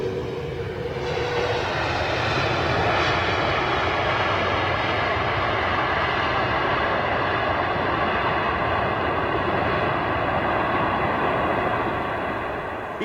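Jet airliner engines at Heathrow Airport, a loud, sustained roar with a rising whine that builds early and then holds steady for the whole stretch, heard alone without talk.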